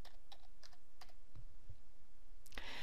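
Keys clatter on a computer keyboard in a quiet room, a run of light irregular taps ending in a louder burst of clicks, with no talk.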